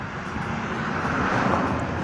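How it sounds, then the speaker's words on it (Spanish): Tractor turning over the soil of a field at Tiabaya, a steady low engine drone with broadband rumble heard from outdoors, constant in level for the whole stretch without voices. "miren ese tractor cómo está dando la vuelta a la tierra"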